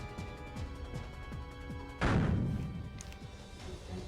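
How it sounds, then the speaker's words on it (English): Loud crash at about two seconds as things smash and glass breaks during a crash landing in Code: Realize on PS Vita, a broadband burst that decays over a second above a steady low game-music bed. "There is the sound of things smashing around us"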